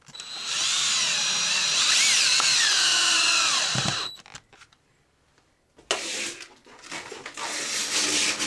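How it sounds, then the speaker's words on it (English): Power drill driving screws into the perimeter of a window frame, a loud whining run of about four seconds, then a pause, then another drilling burst with clatter. "I'm going to go ahead and start screwing in the perimeter."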